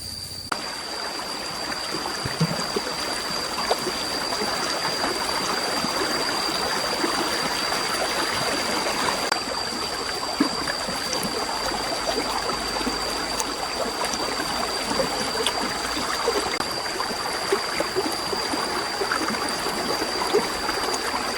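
A forest stream flows steadily, a continuous close babbling and trickling rush of water with small splashes throughout, loud and unbroken, with no voices.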